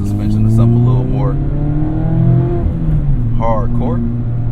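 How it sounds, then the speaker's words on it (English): An ND Mazda Miata with a Goodwin Race exhaust hums in a steady, low drone that swells with each rev. Someone talks over the engine throughout. "in this car you're gonna hear the exhaust. So I got the Goodwin Race exhaust"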